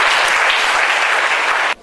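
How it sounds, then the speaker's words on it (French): Loud, sustained applause from an audience at a World AIDS Orphans Day ceremony, a dense, even wall of clapping that cuts off abruptly at the end. "Je vous demande de l'applaudir"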